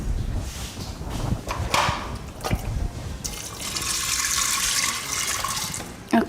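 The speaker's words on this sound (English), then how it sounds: "And add water." Water pours into a pressure cooker holding beans and salt, a steady splashing fill that starts after a few clinks of the pot and runs on for several seconds.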